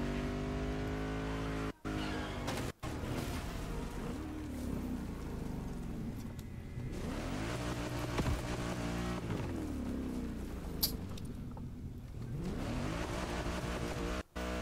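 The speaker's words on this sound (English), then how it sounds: "So it's drifting." A car in the game It Takes Two drifts and skids across a slippery surface, its engine note rising and falling under a long tire slide with a couple of abrupt cutouts.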